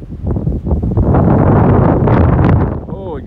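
Heavy wind buffets the microphone outdoors near the railroad in Sadieville, Kentucky, in a loud, continuous rumble that swells and then eases off near the end.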